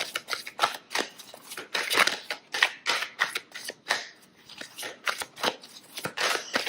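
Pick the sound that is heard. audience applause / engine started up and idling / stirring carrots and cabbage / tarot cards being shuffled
tarot cards being shuffled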